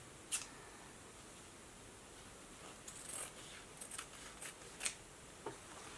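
Scissors snip through fabric for a face mask lining, giving a few faint, crisp clicks and short cuts spread over a quiet background.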